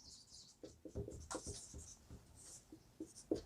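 A pen scratches out the solution of a quadratic equation in short, quiet strokes and taps, irregular and close, with no talk over it.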